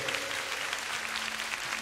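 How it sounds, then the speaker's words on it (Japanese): A live hip-hop concert crowd at a Tokyo club applauds and cheers in a steady, dense wash of sound, with faint music tones lingering underneath. "拍手。"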